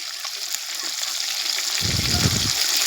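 Fish frying in hot oil on a wood-fired clay chul stove in a village, a steady close hiss and crackle that continues throughout, joined by a low rumbling burst near the end.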